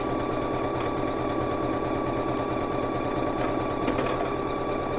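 Close and steady, a sewing machine runs continuously while stitching a buttonhole's bar tacks and legs, with a constant motor hum and rapid needle clatter.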